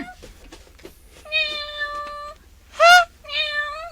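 A cat meows several times, drawn-out harmonic cries with a short pause and a sharper, louder yowl between them, close by over faint background noise.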